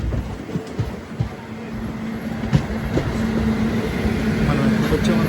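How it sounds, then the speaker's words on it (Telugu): Goods train passing Jangaon station, heard from aboard the Kakatiya Express: a steady rumbling roar with faint rail clatter that builds gradually, with voices talking over it. "Goods train."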